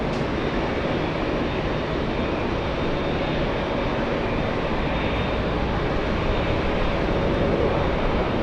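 A Mexican Boeing 737 jet at JFK airport gives off a loud, constant broadband engine roar with a faint high whine that holds evenly from start to finish.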